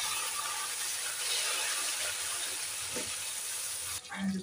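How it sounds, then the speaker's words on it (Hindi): Three finely chopped tomatoes hit hot oil with onions browned for chicken biryani, giving a loud, steady close sizzle and hiss that holds for several seconds, then breaks off near the end with a faint voice. "ये 3 बारीक कटे हुए टमाटर इसमें डाल देते हैं।"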